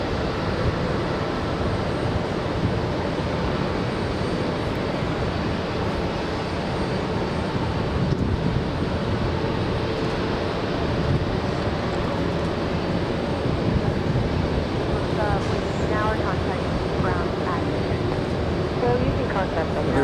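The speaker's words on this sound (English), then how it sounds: "zooming into Air Force One." At a New York airport, the jet engines of Air Force One give a constant, heavy roar that stays loud and unbroken for twenty seconds.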